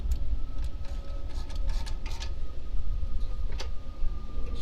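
A 19mm socket ratchets as a bolt is snugged up on a dual bike rack mounted to a camper tongue, producing a rapid series of small close ticks over a low background rumble.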